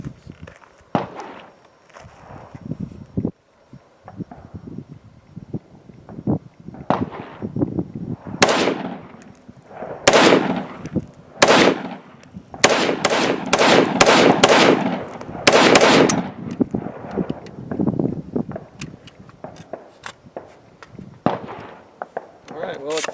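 An AR-15 rifle built on an AeroPrecision lower with a Bravo Company upper fires on an outdoor range: sharp, loud shots, first scattered, then a rapid cluster of cracks in the middle, tapering off to a few quieter reports.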